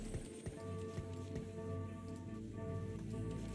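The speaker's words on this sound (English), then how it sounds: "It's rainy weather." Steady rain ambience from a Teamfight Tactics match's rainy weather effect, a continuous dense patter with no thunder or talk over it.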